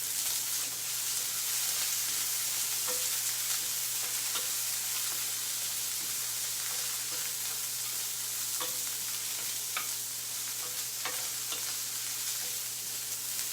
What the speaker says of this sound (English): So we're gonna throw this in the pan. Woo, sizzle!